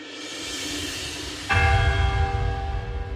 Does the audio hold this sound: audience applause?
no